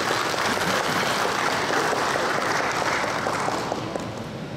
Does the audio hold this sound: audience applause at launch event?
yes